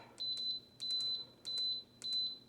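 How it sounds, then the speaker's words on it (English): An electric pressure cooker set to sous vide gives four repeated electronic beep bursts, each a short chirpy sequence with a sustained high tone, evenly spaced about half a second apart against a quiet hum. "Sorry for the beeping."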